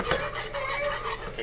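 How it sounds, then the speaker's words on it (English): Brown gravy is whisked in a skillet, a brief close rhythmic swishing and scraping over a low simmer, moderately quiet. "we're consistently whisking here, and you can see it cooking in"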